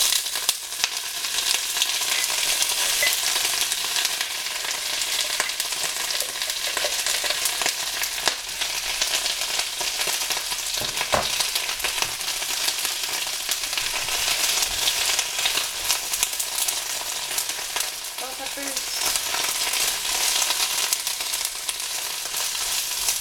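Dandelions sizzle and fry steadily in a hot pan as greens begin cooking, a dense, continuous crackle held close and loud throughout, with occasional faint stirring clinks and no one speaking.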